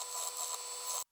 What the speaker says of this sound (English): Now it is time to move over to the sander where I'm sanding them down